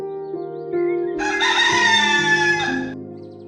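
A rooster crows once, loud and close, in a long drawn-out call that swells and fades over a few seconds in a children's animated story setting.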